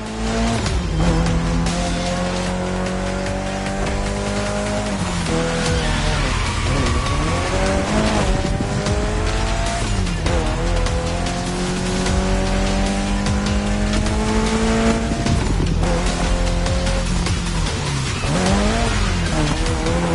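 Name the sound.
Mitsubishi Lancer Evo X racing, video game The Crew Motorfest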